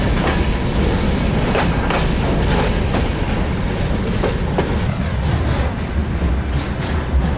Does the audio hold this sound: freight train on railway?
yes